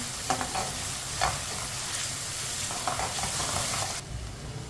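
Potatoes and spinach frying in a pan while a spoon stirs them, a steady sizzle with a few scraping strokes of the spoon, close and alone, cutting off near the end.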